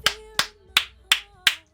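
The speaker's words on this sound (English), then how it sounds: "Claps to that." Five sharp hand claps in an even, moderately quick rhythm, close and clear, with no talking.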